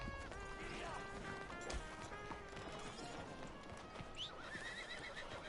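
A horse in the Red Dead Redemption 2 video game clip-clops along with steady hoofbeats and lets out a whinny, the sounds fairly near, set against a busy ambient game background.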